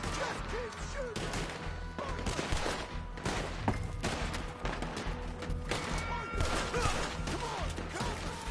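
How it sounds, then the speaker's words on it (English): Sustained gunfire in Red Dead Redemption, rapid overlapping shots and cracks in irregular bursts with heavy impacts, loud and close, while characters shout over the shooting. "Just keep shooting!"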